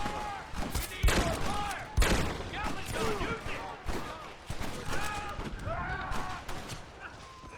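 Gunfire rattles in the western game Red Dead, with a Gatling gun among repeated bursts of sharp shots and thumps, loud and close, while voices shout and talk over the shooting.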